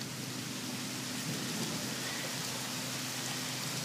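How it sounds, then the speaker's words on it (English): Steady, dense rain falls in a thunderstorm, a constant hiss at a moderate distance with no distinct clap standing out. "And we're getting ready to get pounded with a storm."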